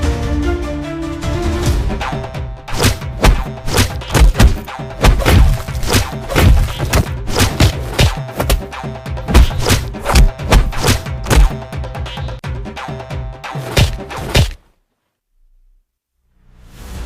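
Heavy thuds and blows as several people beat someone up, a loud, irregular run of close thumping and whacking impacts that keeps going for about fourteen seconds and then stops abruptly into near silence.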